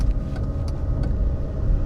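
A car on a grey, rainy UK morning, heard from inside as a steady low engine and road rumble that holds even and unbroken throughout, with a few faint higher ticks on top.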